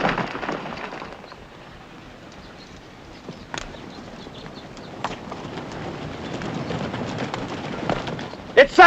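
Cavalry horses gallop in a 1950 Western, a steady rumble of hoofbeats under shouting voices, with sharp bangs near the end.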